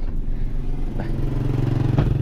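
A motorcycle engine idles steadily with a low, rhythmic putter, running close by throughout.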